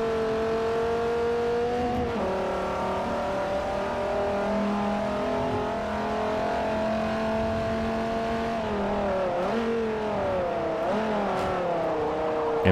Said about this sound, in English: that's a large fucking engine